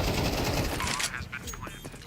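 Counter-Strike 2 gunfire in a Faceit match, a dense rapid burst of close automatic shots that fades into scattered echoes and mechanical clatter within about two seconds.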